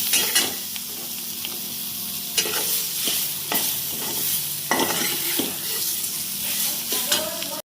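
Sliced bitter gourd sautés in masala, giving a loud, continuous sizzle with repeated scraping strokes of a spoon against the pan as it is stirred, and no voices over it.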